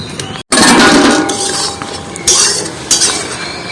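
A metal plate or utensil clinks and scrapes as it is set over a pot of jackfruit, potatoes and eggs being boiled, with a sharp clatter near the start and further clinks later, loud and close with no talk.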